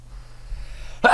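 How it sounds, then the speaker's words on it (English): A single sharp sneeze bursts out at the very end, loud and close, after a moment of quiet room hum. "That sneeze came out of nowhere."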